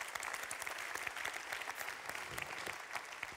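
Audience applause at a French national ceremony, dense steady clapping from a sizable crowd sustained throughout, fairly loud and without pause.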